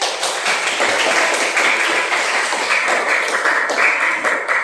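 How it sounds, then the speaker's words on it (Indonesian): Students clap their hands in a high school classroom during an arts and culture lesson, a steady dense patter of many hands close by, continuous for several seconds with no talking over it. "Tepuk tangan dulu."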